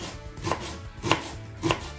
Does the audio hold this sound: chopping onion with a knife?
yes